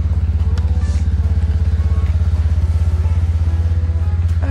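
A scooter engine runs at a steady, pulsing idle, heard close up as a loud, low, even putter with light mechanical clatter and no speech.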